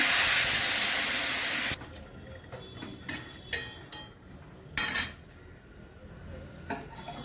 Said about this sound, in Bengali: কষানো হয়ে গেছে, আমি জল দিয়ে দিচ্ছি।